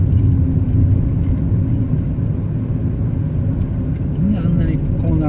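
A car cruising at about 40 km/h on a mountain road, Gunma prefectural route 196 on Mount Myogi, gives a steady close engine and road rumble. People talk over it throughout.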